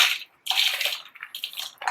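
Moth bean dal is tipped into a mixing bowl in three loud, close, wet, crunchy rushes separated by brief silences, with no talking.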